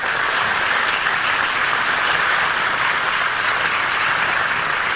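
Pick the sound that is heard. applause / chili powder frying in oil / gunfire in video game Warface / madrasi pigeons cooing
applause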